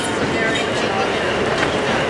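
Steady, loud rumbling roar of a New York City subway train riding along the rails, filling the whole moment with a continuous rolling drone, with faint voices mixed in.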